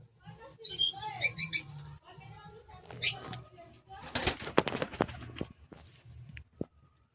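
Pigeons at a keeper's loft give bursts of high chirps and soft cooing, close by, with some shuffling and handling noises and a bit of talk near the end.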